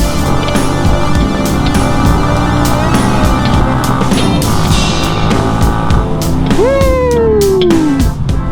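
A motorcycle rides along with a loud, continuous engine drone and wind roar. Near the end the engine note sweeps audibly downward as the throttle eases off.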